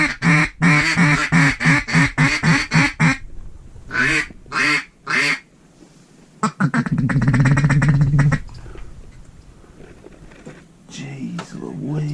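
A flock of ducks quacks loudly and repeatedly during a public land duck hunt, with bursts of rapid calls at close range, broken by gaps and a rush of wind, while hunters talk.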